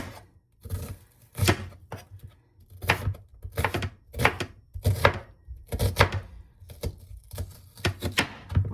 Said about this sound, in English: And then this piece on the end, we're just gonna roughly chop this.